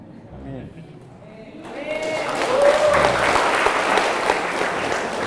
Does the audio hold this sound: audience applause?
yes